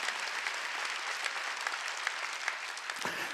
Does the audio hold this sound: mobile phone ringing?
no